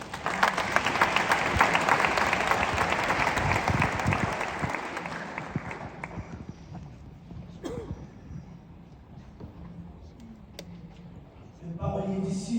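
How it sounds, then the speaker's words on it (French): An audience at UNESCO applauds the poet Yaya Esaïe Kassé with loud, dense clapping for about six seconds. It thins to a quiet room with scattered sounds, and a brief burst of voices and clapping returns at the end. "sous vos applaudissements"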